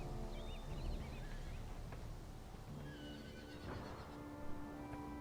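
Several horses whinny and neigh in a busy game soundscape, with hooves clip-clopping and a steady rumble of ambient noise underneath, in a U.S. Cavalry versus Plains Indians battle game.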